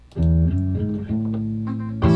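A clean electric guitar strums sustained chords without effects, ringing plainly for a couple of seconds before another strum.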